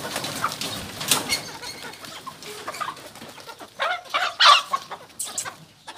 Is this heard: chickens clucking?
yes